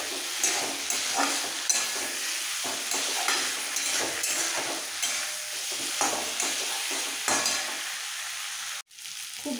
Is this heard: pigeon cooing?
no